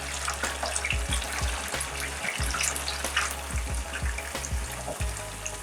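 Honey banana slices fry in hot oil over medium heat until golden brown, giving a steady close crackling sizzle with small pops throughout and no voices.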